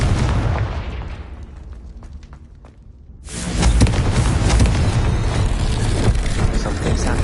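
A Confringo fire spell explodes in the Hogwarts Legacy game: a sudden loud, deep burst breaks in after a quieter stretch and continues as a dense, sustained roar.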